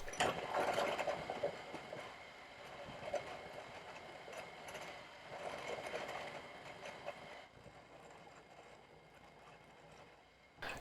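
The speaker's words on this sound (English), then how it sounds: "Before committing these arms to the milling machine for the initial roughing process" Arms for a drill sharpener being rough-milled on a milling machine, a steady dense mechanical cutting noise running continuously, fairly loud and close, easing slightly near the end.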